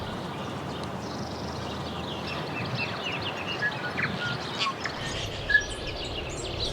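A flock of small birds chirping outdoors along a river trail in Kapiti on a spring day, scattered faint tweets over a steady hiss of wind and ambient noise, with one brief louder chirp near the end.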